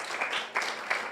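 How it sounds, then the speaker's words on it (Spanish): Applause from a church congregation, a steady wash of many hands clapping that swells in a few brief surges across a short moment, fairly soft and distant. "Dale un fuerte aplauso al Señor."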